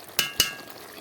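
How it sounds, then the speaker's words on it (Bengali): Ghee drops into a hot pan of nearly finished dish made with flour, giving two sharp hissing bursts in quick succession followed by a soft, steady sizzle close by. "ঘি দিয়ে দিচ্ছি।"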